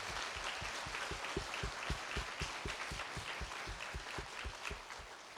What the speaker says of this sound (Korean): 큰 박수 한번 올려드리겠습니다.